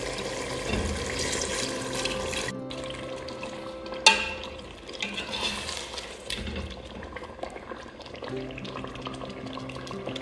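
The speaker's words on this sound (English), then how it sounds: "Now I'm going to add a little bit of water." Water is poured into a pan of frying food, bringing a burst of hissing and bubbling over steady sizzling, with a sharp clatter near the middle and the frying settling afterward.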